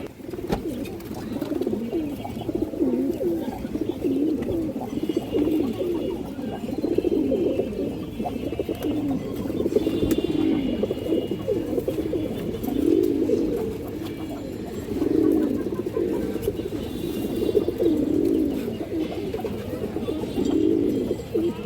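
A pair of Gorra pigeons coo over and over in soft, rhythmic, throaty bursts close by, the calls steady through a quiet room with no talking.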